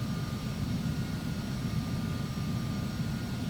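A Bombardier aircraft in Microsoft Flight Simulator X gives off a steady, moderately quiet engine drone with a constant whine on top, unchanging throughout.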